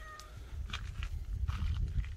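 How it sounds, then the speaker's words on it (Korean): A cat meows several times outdoors on Jeju Island, short scattered calls over a steady low rumble of wind and movement, fairly close but not loud. "고양이 있었는데? 고양이 어디 갔어?"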